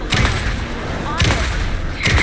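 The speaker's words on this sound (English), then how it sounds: "Anderson, pin him down with gunfire for me to get the light on." Several bursts of gunfire from the video game Alan Wake II crack out in quick clusters, near and sharp, over faint background voices.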